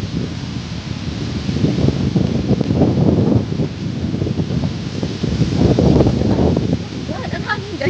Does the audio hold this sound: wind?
yes